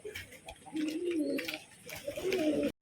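Crested pigeons kept as pets coo softly in a series of low, repeated throaty calls, fairly faint and close, with brief pauses between phrases.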